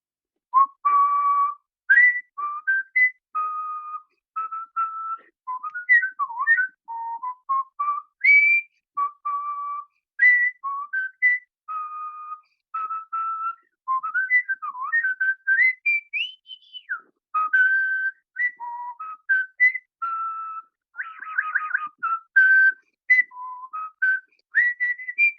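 A man whistles solo for a long, clean, close run of swinging phrases. Quick trills and short gaps fall between the notes, with no talk.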